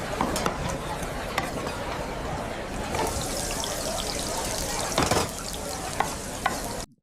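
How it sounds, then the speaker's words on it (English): AI-generated kitchen scene in the style of Ratatouille: steady sizzling and frying with stirring, trickling water and occasional sharp clicks and clatters, continuous and close throughout. "the sound effects, the clicking, you heard the boiling water or fried water, everything"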